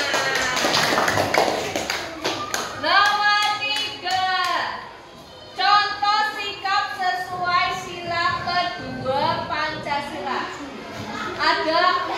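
Students clap their hands in a classroom, a burst of sharp taps at the start followed by children's voices talking and answering over faint scattered claps.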